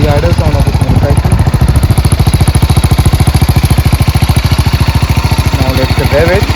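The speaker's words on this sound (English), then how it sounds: "This is the idle sound of this motorcycle." A BMW G310 GS motorcycle engine idles steadily and close by, a fast even low putter with no revving and no voices.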